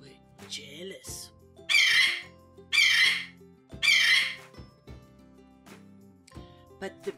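Three loud, harsh bird squawks come in a steady sequence as a storytelling sound effect, with quieter tonal sounds and effects between them.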